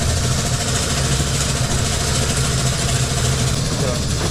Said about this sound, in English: it's just an air compressor mounted on top of a keg, like a beer keg, with a dive hose down to the diver